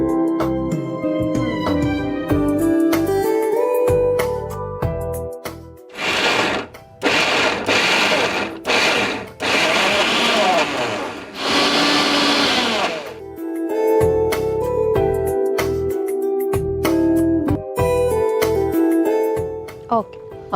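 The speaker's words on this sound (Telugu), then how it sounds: "దీంట్లో మళ్ళీ వాటర్ ఏమి వేయకుండా జస్ట్ కోర్స్గా మిక్సీ పట్టుకోవాలి" An electric mixie coarsely grinds boiled black-eyed peas without water, whirring loudly in several bursts with short pauses between, the motor pitch rising and falling as the load shifts.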